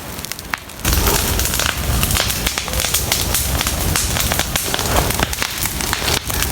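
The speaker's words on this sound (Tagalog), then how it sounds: "Kaya pag sinunog mo, mabilis kumalat yung apoy." Dry leaves burning in a fire on farmland, a steady dense crackle and hiss throughout that swells after the first second and stays loud and close, with irregular sharp pops. No voices.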